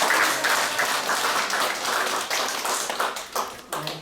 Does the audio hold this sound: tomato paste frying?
no